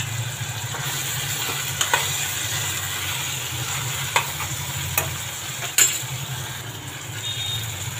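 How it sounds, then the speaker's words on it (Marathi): Masala for stuffed brinjal fries in oil while being stirred, giving a steady close sizzle and hiss with occasional scrapes and clinks of the spoon against the pan. "छान तेल सुटेपर्यंत परतून घेणार।"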